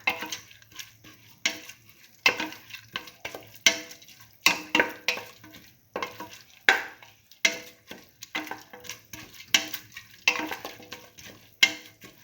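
Split mung bean and tomato stew being stirred thoroughly in a pan: repeated scraping, clinking strokes of a utensil against the pan in a steady rhythm, close and clear with no talking.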